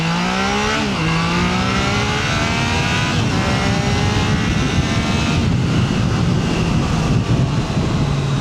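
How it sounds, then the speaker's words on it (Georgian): Triumph Trident 660 three-cylinder motorcycle engine, 2022 model, revving hard and climbing steadily through the revs in a loud, continuous near pull, a brief dip near the start, no talk. "სამი ცილინდრი, თან რაღაცა ძლიერი არის, თან მაღლაც შეუძლია წასვლა."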